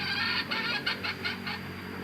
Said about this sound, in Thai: จะรู้ว่าเป็นไก่ที่ขันดีขันม่วนโอเคนะครับ ขันแบบนี้นะครับ